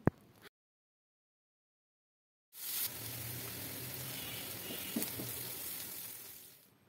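Chopped onion and sliced green chillies fry in oil in an uncovered pan over medium heat, giving a steady, close sizzle that starts after a silent gap and continues evenly to the end.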